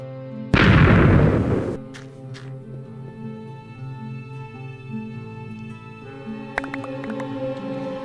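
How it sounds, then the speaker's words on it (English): A single loud, close blast from TNT during blast mining in Minecraft Infdev/Alpha bursts out, followed by a long rumbling decay and a softer pop near the end. "this time I brought TNT. Blast mining, baby."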